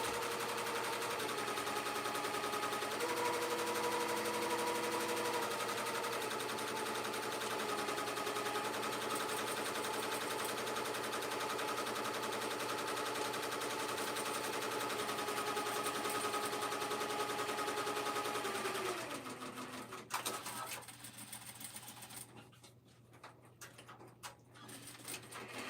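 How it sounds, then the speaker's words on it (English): A sewing machine stitches elastic with a steady, fast, continuous whirring drone close by, which slows and winds down near the end. "I'm just sewing my elastic really quick."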